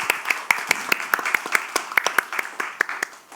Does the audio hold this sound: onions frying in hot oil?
no